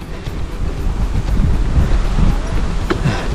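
Steady outdoor wind rushing and buffeting against the microphone during a hill-climbing ride, a continuous low roar with gusty swells and no talking.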